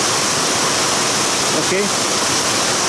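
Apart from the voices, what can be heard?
heavy rainstorm rain splashing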